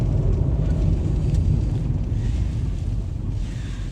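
A car with worn front wheel bearings, heard from inside while driving, giving a steady loud low hum and rumble mixed with road and wind noise, with no voices.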